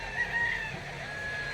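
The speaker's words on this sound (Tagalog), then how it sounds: "Tabi nito, manukan." Chickens and a rooster at a backyard coop beside a fishpond, steady faint clucking and fowl calls continuing throughout, with a thin high crowing tone briefly rising above the background.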